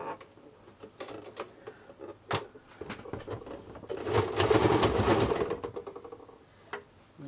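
Close up, a sewing machine stitches a turned-down collar about an inch deep on a small doll dress. Soft mechanical ticks and clicks lead into one sustained, louder whirring run, then the machine stops with a few more clicks.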